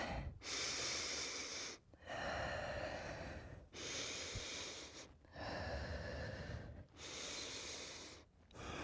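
Deep, slow breaths during a yoga resting pose, five long airy exhalations and inhalations close to the microphone, separated by short pauses, with no talking.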